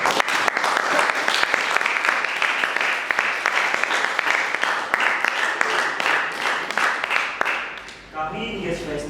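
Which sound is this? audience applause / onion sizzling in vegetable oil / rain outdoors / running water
audience applause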